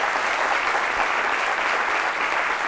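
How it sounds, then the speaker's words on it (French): Studio audience applauding on the set of a French midday TV talk show, a dense steady wash of clapping that holds at full strength throughout, with no speech over it. "c'est donc avec ces ovations que nous allons recevoir notre invité témoin, Damien Deprez"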